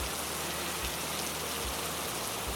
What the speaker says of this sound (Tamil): ஒரு நாள் செம்மையாக மழை பெய்ய ஆரம்பிச்சிருச்சு.